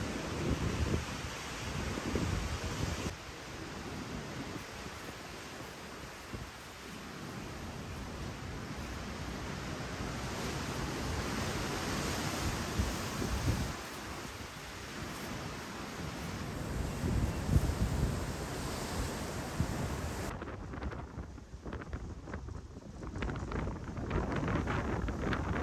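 Strong wind buffets the microphone over crashing sea waves at Okaloosa Island Pier in Destin, Florida, a loud continuous roar of surf and gusts with no voices.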